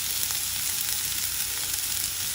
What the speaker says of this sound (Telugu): ఉల్లిపాయలు కొద్దిగా వేగాక